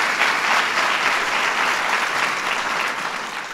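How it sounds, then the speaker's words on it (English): A big round of applause fills the room at an International Women's Day event honoring a performer, loud, dense clapping from a sizable crowd that holds steady, then eases slightly near the end. "Give her a big round of applause."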